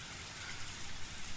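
Torrential downpour in the Higurashi video game, a steady broadband hiss of heavy rain that fills the short stretch evenly at moderate level, with no voices.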